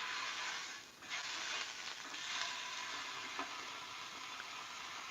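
Chicken burger patty cooking on a small gas burner, a continuous bright sizzle and crackle, moderately close and even, with small pops and no talk.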